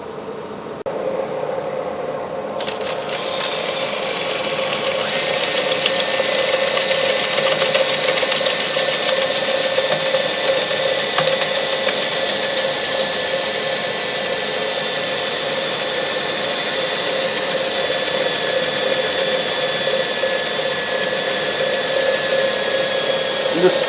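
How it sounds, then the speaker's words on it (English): A power sander with 80-grit paper sands a wooden turned bowl, whirring steadily and loudly, a continuous high-pitched motor drone that holds throughout with little change. "I'm just power sanding that down."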